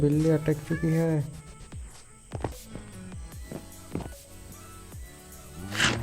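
Synthetic cat meows in Minecraft, several short mewing calls with footstep-like taps and clicks between them and another meow near the end.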